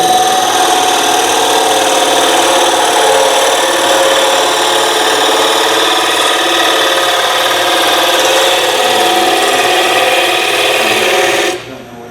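Bowl gouge cutting a wooden bowl on a spinning lathe, a loud continuous scraping hiss over the motor's steady whine that cuts off near the end, no speech.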